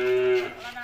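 A cow at a calf trading yard lets out a single loud, close moo that trails off into a lower, breathy tail.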